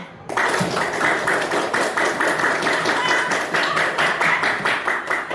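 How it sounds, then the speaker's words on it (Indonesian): A classroom of students plays a clapping game, striking their hands together in a quick, regular rhythm of many claps, close and fairly loud, with faint voices underneath. "Tepuk tangan 1, tepuk tangan 2, tepuk tangan 3."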